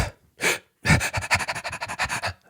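A person imitates a dog panting as a breathing exercise for singers, two slow breaths followed by a fast, even run of quick panting breaths, close and clear with no talk.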